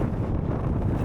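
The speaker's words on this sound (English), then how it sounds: "It's pretty windy." Strong wind blowing at a roadside stop along a south coast drive roars across the microphone, a brief, dense, steady low rumble with no other sounds.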